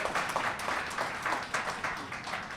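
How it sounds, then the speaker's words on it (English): An audience at a book launch party applauds with steady, dense clapping through the whole moment, fairly close and moderately loud, with no pauses and no distinct voices on top. "Round of applause, please."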